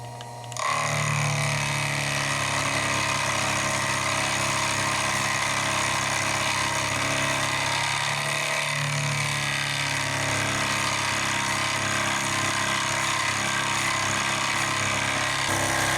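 Milling machine cutting metal bars clamped in a fixture, a continuous loud grinding whine with steady motor hum and a slight shift in tone partway through, no voices.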